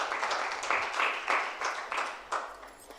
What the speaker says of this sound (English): We can clap for her too.